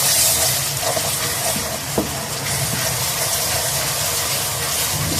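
Ginger garlic paste sizzles with onions in a pan for mutton kofta curry, a steady close hiss of frying with a few faint stirring knocks and no talk.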